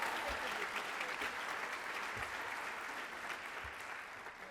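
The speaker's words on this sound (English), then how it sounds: "Please join me in giving Jane one more round of applause for volunteering" Sustained audience applause fills a live awards night, a dense, even wash of many hands clapping from start to finish at moderate volume.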